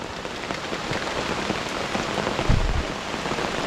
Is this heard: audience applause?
no